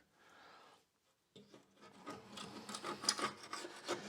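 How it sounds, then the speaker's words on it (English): Gasket scraper scraping old gasket material off the oil pan of a 2000 Jeep Grand Cherokee: a brief rasp, a pause, then close, repeated rough scraping strokes growing louder. "we're going to go ahead and scrape this off with my gasket scraper"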